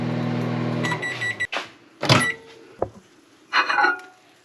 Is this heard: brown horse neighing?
no